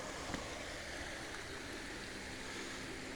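A small stream flows beside a stone railroad culvert on the Lehigh Valley Pottsville branch, giving a steady, even broadband wash of moving water with no talk.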